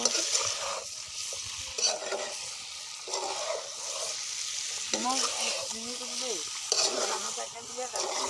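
Meat is stirred and mixed in a hot pan, with repeated scraping strokes of a spatula over a steady sizzle, close and fairly loud, with no talking.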